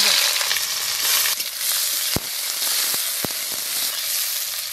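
Chopped onions frying in hot oil with bay leaf in a wok-style kadai in a rural village kitchen: a steady, close, dense sizzle with a few sharp clicks of a spatula against the pan.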